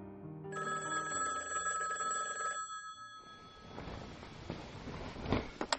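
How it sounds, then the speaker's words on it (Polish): A telephone bell rings at night in a steady electronic tone for a couple of seconds, then stops, followed by faint rustling and soft clatter. "Pewnej nocy o 4:45 obudził mnie dzwonek telefonu."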